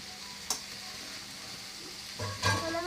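Noodles and sauce fry in a pan under a low, steady sizzle, with a couple of soft stirring knocks from a utensil, heard close but quiet and with no speech.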